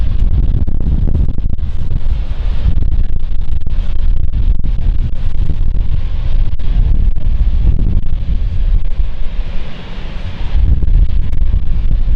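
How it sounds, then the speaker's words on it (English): Wind gusts buffet an outdoor microphone at London City Airport, a steady low rumble with roaring surges and a brief lull near the end, with no talk. "It's a little bit windier today."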